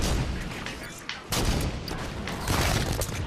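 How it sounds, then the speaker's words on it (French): Rapid gunfire in the game Halo 5 Guardians, shots fired from a balcony, loud dense bursts of overlapping blasts with a short break near the middle, then heavy fire resuming. "On tire dessus depuis le balcon."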